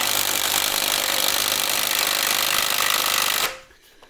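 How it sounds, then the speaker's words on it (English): Ryobi cordless impact gun hammers on a suspension strut bolt of a VW Golf Cabrio, a loud continuous close rattle for about three and a half seconds before stopping abruptly. "there's a brushless version of the Ryobi impact gun that's available now, and it's supposedly a lot stronger"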